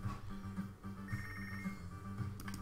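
Telephone ringing in the video game Punch Club, a steady electronic trill repeating in short bursts over a continuous background soundtrack, with no talking.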